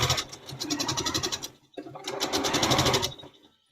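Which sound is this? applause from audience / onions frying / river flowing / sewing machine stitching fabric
sewing machine stitching fabric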